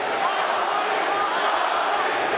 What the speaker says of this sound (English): As the fans show who they are rooting for, cheering Cung Lee's name